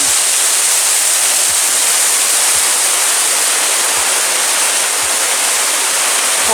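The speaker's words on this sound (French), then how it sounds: "La cascade de l'Aigle Brune, magnifique." Cascade de l'Aigle Brun, a waterfall in Provence, pouring water over rock as a loud, steady, close roar of broad white rushing with no letup and no voices.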